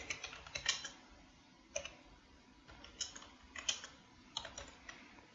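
Keys clatter on a computer keyboard while someone types into a document in MS Office 2007, in quick irregular bursts of close, crisp clicks separated by short pauses.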